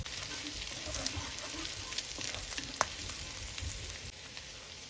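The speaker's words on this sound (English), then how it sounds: "Add garlic and ginger and sauté till it changes its color on medium-high heat" Garlic and ginger sauté in a quarter cup of oil in a pan over medium-high heat, giving a steady close sizzle with light crackles and a sharp pop near the middle.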